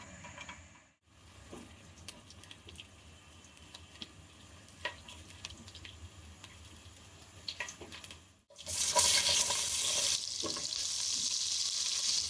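Chopped garlic frying in about 100 grams of oil for Bangladeshi restaurant-style egg fried rice: a low steady sizzle with occasional utensil taps, then a sudden loud burst of hissing as more goes into the pan.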